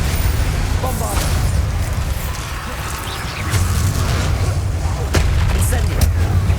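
A Bombarda blast spell going off in Hogwarts Legacy, heard as loud, dense booming explosions with rumbling low end that continue steadily, swelling again toward the end.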